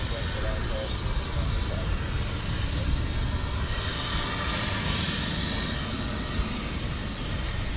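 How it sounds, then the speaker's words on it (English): An American Airlines A321neo jet at DFW airport gives a steady, broad engine roar that holds at an even level throughout, heard from a distance as a continuous rumble and hiss. "up next is American 2811 from Los Angeles on the A321neo"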